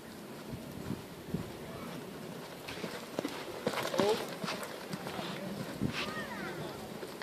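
Rhythmic hoofbeats of a ridden horse moving at a steady pace, heard under a person giving riding instructions in Portuguese, with outdoor background noise.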